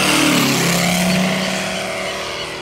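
A Moki 150 radial engine on a Ziroli Stearman scale model biplane runs loud and close at high throttle, a steady roaring drone that eases slightly toward the end.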